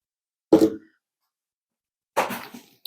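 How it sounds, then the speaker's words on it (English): A small Maltipoo puppy gives two short, soft burps a second and a half apart, close and quiet against a silent background. "Burp."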